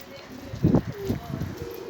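Soft, low pigeon cooing in a few short throaty bursts, close by, with a faint background hum and some low voices.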